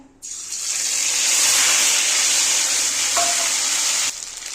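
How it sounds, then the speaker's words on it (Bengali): Mustard and green chili paste hits hot oil with a sudden loud, hissing sizzle that holds steady and close for several seconds, one brief metallic clink midway, before quickly fading. "তেলটা গরম হয়ে গেছে, আমি সর্ষে আর কাঁচা লঙ্কা বাটা"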